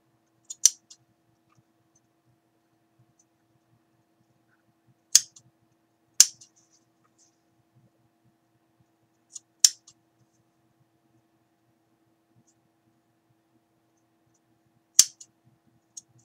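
Large scissors snip while crafting a shabby mini hot air balloon: a handful of sharp, isolated cuts spaced irregularly, some in quick doubles, each close and crisp against near silence.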